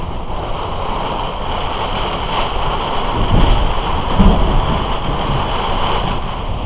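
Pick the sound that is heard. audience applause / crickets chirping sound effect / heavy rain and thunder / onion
heavy rain and thunder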